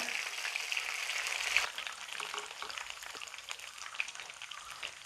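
Hot oil sizzles and crackles steadily as chicken lollipops deep-fry, a dense bubbling hiss with occasional sharper pops, close up and continuous.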